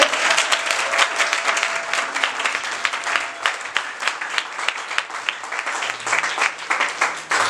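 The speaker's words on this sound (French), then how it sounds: "Acclamez pour le Seigneur" Church congregation applauds for the Lord, a dense, continuous wash of many hands clapping with irregular peaks, fairly close and sustained throughout.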